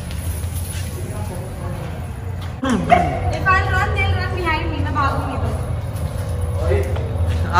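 A dog barks and yips repeatedly at close range under ongoing talk and background noise in a casual home setting.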